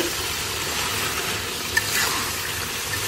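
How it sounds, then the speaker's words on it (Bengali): Beef with spices and potatoes stir-fried in a pan: a dense, continuous close-up sizzle with stirring scrapes, loud and steady, with no voices. "মাংসটা এখন আমি খুব ভালোভাবে কষিয়ে নেব।"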